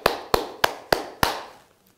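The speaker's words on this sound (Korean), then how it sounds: "다시 한번 박수를 보내고 싶습니다" Hands clap five times in an even, deliberate rhythm, each clap sharp and close, before fading to quiet, during a Taekwondo commentary broadcast.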